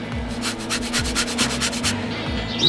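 A large orange zested on a grater: quick, even rasping strokes in a steady rhythm, close and fairly loud, with no talking.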